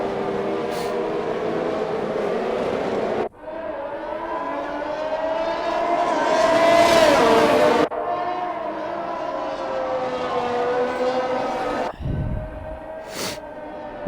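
F1 race cars in F1 2021 roar through a formation lap at a Saudi Arabia track, with a loud, sustained engine drone that rises and falls with gear changes and abrupt cuts between cars.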